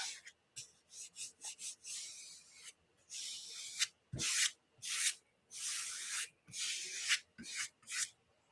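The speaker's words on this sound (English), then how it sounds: "And I'm just going to burnish that down a little bit." Paper is burnished down onto the rounded soft spine of a handmade junk journal, with a dozen or so soft, quiet rubbing strokes in an uneven rhythm, close by and without talk.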